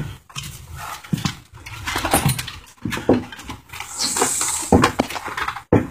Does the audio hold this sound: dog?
yes